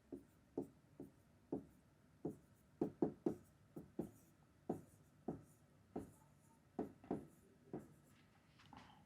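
Pen strokes on paper during a Class 10 geometry lesson on circles, about a dozen short, regular taps and scratches close by with no talking.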